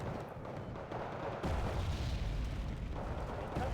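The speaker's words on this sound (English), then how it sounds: "So is the sheer volume of 3 howitzers that deal the same amount of damage per hit" Howitzer artillery fire in a video game: a deep, heavy boom rolls in partway through and rumbles on with a broad, loud roar, alongside ongoing battle noise and no talk.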